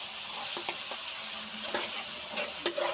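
Green chilli paste sizzling in hot oil in a pan makes a dense, close, steady hiss, punctuated by a few brief spatula scrapes and a louder clatter near the end, with no one talking.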